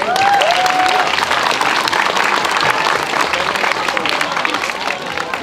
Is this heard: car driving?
no